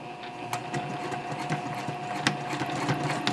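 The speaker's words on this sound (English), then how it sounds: "So I'm going to stitch in the ditch right now" A sewing machine stitches in the ditch at a 3.0 stitch length on a quilted fabric basket, running as a steady mechanical whir with rapid needle clicks throughout, close and alone.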